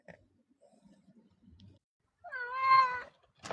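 A cat gives one clear, drawn-out meow near the end, indoors and close by, after a stretch of faint rustling and near-quiet.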